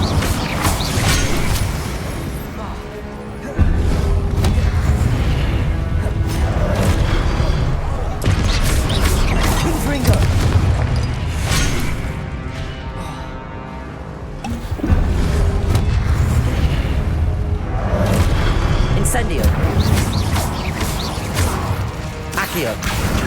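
Spell casting in Hogwarts Legacy brings a dense run of magical blasts, crashing explosions and booming impacts, loud and nearly continuous, with brief lulls between bursts of combat.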